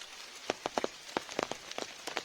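Rain falls during a riverside walk, with scattered close drops tapping at an irregular rhythm over a quiet background, faint and alone without talk.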